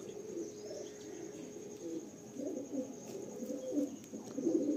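A pair of compact pigeons, one male and one female, coo softly and continuously, the low murmuring calls close by.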